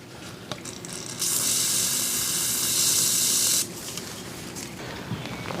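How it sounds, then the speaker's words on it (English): A can of PB Blaster penetrating oil sprayed onto a bolt on a Quadracer 250R quad, one steady hissing blast lasting about two and a half seconds, close and clear against quiet workshop background. "Put a little PB blast."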